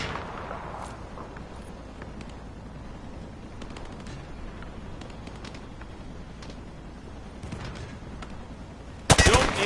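A rifle fired from the hip: faint, scattered distant reports sound over a low steady rumble, then a sudden, much louder close burst of shots arrives at the very end.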